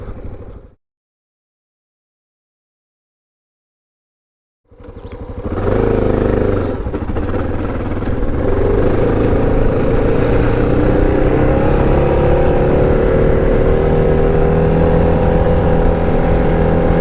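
Honda XR650L retro rally motorcycle engine running steadily while riding on a road, loud and continuous after a brief silence near the start, with a steady drone and a slowly rising pitch.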